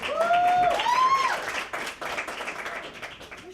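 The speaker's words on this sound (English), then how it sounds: "Big round of applause for Charlie." Kids and teens at a winter movie-making camp applaud a camper after an interview, clapping mixed with high whistling tones early on, then trailing off unevenly.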